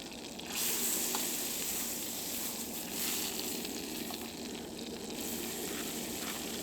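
Marinated steak pieces in soy sauce, olive oil and Sriracha frying in a restored hunters fry pan outdoors in the snow, a steady close sizzle and hiss with occasional faint scraping.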